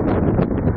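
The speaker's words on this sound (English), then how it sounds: "Wow, that's windy." Wind gusts across a balcony on a sunny morning, buffeting the microphone with a loud, rough rumble for just under a second.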